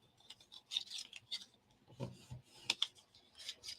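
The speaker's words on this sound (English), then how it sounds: "So I'm going to just burnish my folds" Paper folds on a pop-up book are burnished by hand, making short dry rubbing and scraping strokes in irregular bursts, close and fairly quiet with no talking.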